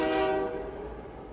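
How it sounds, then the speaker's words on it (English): A train pulls away from a station, its horn sounding with strong tonal harmonics that fade after the first half second into a rumbling rail noise, loud and close with no talk. "The train pulled away from the station and raced into the tunnel."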